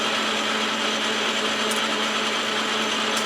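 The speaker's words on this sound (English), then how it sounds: "Let's see how it cuts. Center drilling is always hard." Metal is being center drilled on a lathe, a steady loud whine and hiss of cutting that continues evenly throughout with no pauses and no talking.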